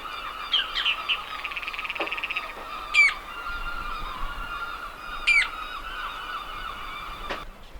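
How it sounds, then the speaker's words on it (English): Turnstones call at a harbour, two sharp rising calls ringing out near each other over steady background noise, with softer bird chatter and a few knocks in between. "These turnstones, which are very tame."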